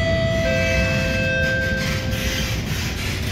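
An SMRT R151 train pulls into Pasir Ris station, heard from inside the car as a loud, steady rolling rumble with sustained high-pitched whines from the electric motors and brakes.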